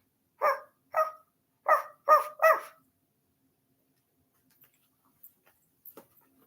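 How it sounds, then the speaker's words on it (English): A dog barks five times in quick succession, loud and close, followed by faint scattered ticks and quiet. "you can almost hear them barking in the background"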